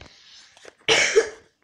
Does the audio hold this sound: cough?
yes